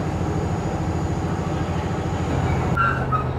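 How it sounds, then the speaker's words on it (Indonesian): A Sindro commuter train departs Indro station, rumbling and clattering steadily along the rails, then the sound shifts to a lower hum with a brief squeal near the end. "kereta komuter Sindro diberangkatkan kembali dari stasiun Indro ya"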